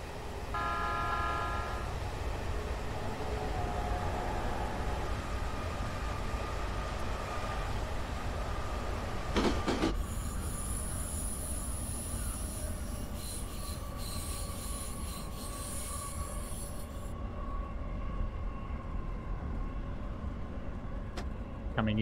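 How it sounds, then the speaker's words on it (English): A commuter train on Tokyo's Keihin-Tohoku and Utsunomiya lines passes in a train simulator game, a continuous rumble of railcars and rolling wheels with high squealing and screeching, steady and loud throughout, without speech. "There'll be a train here somewhere."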